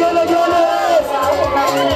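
A crowd at a village house-warming in Bungoma, Kenya, cheers and ululates in a dense, continuous hubbub, with high wavering trilled cries riding over the babble for the whole stretch.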